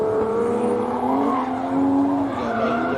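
Drift race cars in a Mini Fab Drift Series Pro Class run at Raleigh Motorsport Complex, engines droning loud and steady with rising tire squeal as the cars slide through a bend, continuous for the full stretch.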